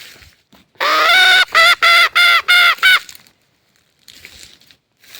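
A pet bantam rooster crows, used as a lure for wild junglefowl outdoors: a loud, close call broken into a long opening note and four quick stepped pulses, followed by quiet.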